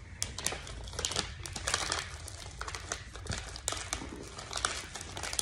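Crisp crinkling and rustling of an Airheads candy wrapper being opened, a steady run of close, sharp crackles with no talking.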